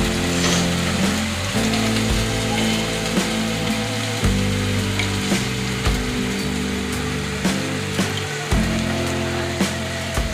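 Hilsa fish pieces frying in mustard masala, a constant crackling spit and sizzle in hot oil with scattered sharp pops and occasional clunks of the pan, loud and close, with no talk.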